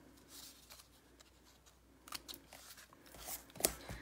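Scissors trim ribbon ends at an angle on a Joyous Noel card, soft rustling followed by a couple of crisp snips near the end.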